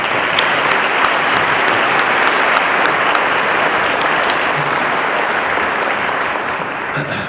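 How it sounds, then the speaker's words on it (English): A town meeting audience gives a round of applause for a state representative, steady dense clapping from a large crowd filling the room, loud and sustained before tapering slightly at the end. "if you could give him a round of applause for coming"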